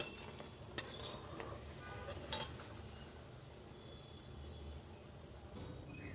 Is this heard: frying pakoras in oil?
yes